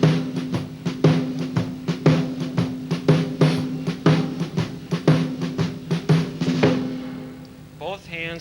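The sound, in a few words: Detroit shuffle drum beat, bass drum four on the floor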